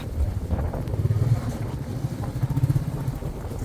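A vehicle grinds up a snow-covered mountain road toward Badrinath in first gear, its engine a steady, close, low throbbing rumble mixed with wind buffeting.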